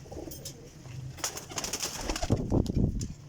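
Desi pigeons of the pipla type coo in steady, overlapping rounds from a loft of championship flying pigeons, with a brief flutter of wings near the end and no talk.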